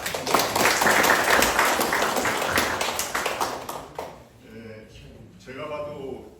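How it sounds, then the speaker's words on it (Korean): At a graduation ceremony for horse heritage guides in Jeju, the audience claps in thanks, a dense round of applause lasting about four seconds before it fades and a voice starts speaking. "감사의 박수 한번"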